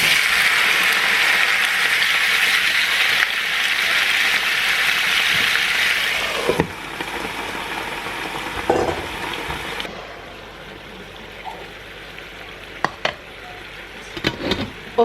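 Chicken livers tossed into a hot pot, a loud broad sizzle and hiss that drops abruptly, then quieter crackling with scattered clatters and knocks of a lid and utensils near the end, no talking.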